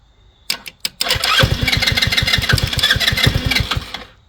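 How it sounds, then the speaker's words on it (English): A Motobravo Roma 150cc scooter cranks with a few short starter bursts, then its engine catches and runs with a rapid, close, loud putter for about three seconds before dying away. "I played around with this and hit that starter button."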